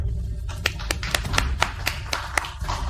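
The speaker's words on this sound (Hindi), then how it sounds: "कृपया लीनियान मंच पर आएं, सभी तालियों से स्वागत करें।" Steady rhythmic hand claps, about nine in three seconds, sound fairly close over a low background murmur.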